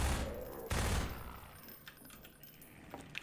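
A grenade blast in Half-Life 2, a quiet, muffled burst near the start that quickly fades into low rumbling debris and a few faint clinks.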